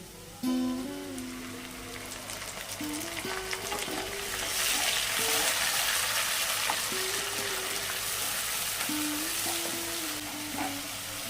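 Chili, ginger and onion paste frying in a pan for a Bengali katla kalia fish curry, a dense sizzle that swells and stays loud, with occasional stirring scrapes and a faint tonal hum in the background.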